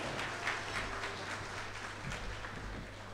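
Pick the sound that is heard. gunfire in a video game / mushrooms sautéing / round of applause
round of applause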